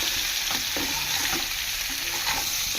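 Potatoes with salt and turmeric frying in a pan, a loud continuous hiss with scattered spatters and the odd scrape, close by and unbroken, with no voices.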